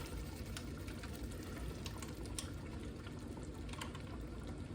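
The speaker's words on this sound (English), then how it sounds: "pour just 2/3 of this" Fresh cream pours steadily from a container into a pan, a soft continuous liquid rush with faint splashy ticks, close and even throughout, no voices.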